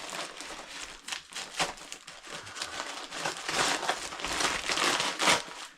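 Wrapping paper crinkles and rustles as a parcel is unwrapped, a continuous close run of crackling bursts that grows busier and louder toward the end.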